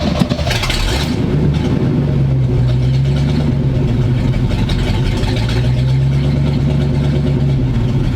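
An old big block Square body truck engine, running again after sitting abandoned for 20 years, roars loudly and steadily up close with slow wavering revs from a little gas, with no talk over it.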